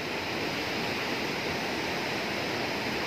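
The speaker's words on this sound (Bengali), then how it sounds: "পাহাড় দিয়ে জল পড়ছে" Water pouring down a hillside waterfall in the hills, a steady broadband rush that stays constant and fairly loud throughout, with no voices over it.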